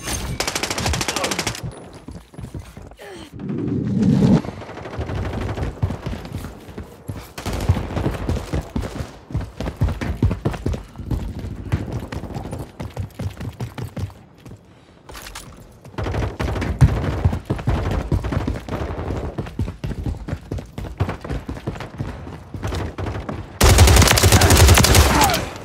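Sustained automatic gunfire in a Call of Duty MW3 Invasion match, rapid bursts rattling nearly continuously with brief lulls, loud and close, punctuated by thumps.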